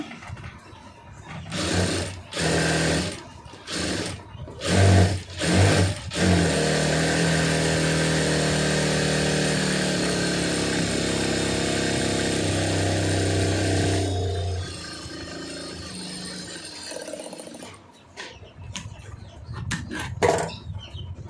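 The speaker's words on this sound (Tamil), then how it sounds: "இந்த உள் பக்கம் வந்து ஒரு கால் இன்ச்சு வந்து ஓர தையல் போட்டுருங்க" A sewing machine runs a quarter-inch edge stitch along a neck design: several short whirring bursts, then one long, steady, close run of about eight seconds before it stops and light handling noises follow.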